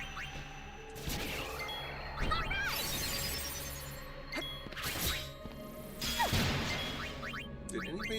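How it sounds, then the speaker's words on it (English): A doorbell-like ding from a video game set in Spira, bright chiming tones recurring several times over game music and clanking effects, fairly loud and clear. "Did anybody else hear something? Someone hit the doorbell?"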